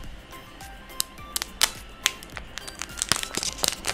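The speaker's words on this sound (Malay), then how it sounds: "Kita buka dia punya plastik." Plastic wrapping is peeled and torn from a second-generation Apple Pencil box, producing close, irregular crinkling, crackling and sharp snaps over about four seconds, with no talking.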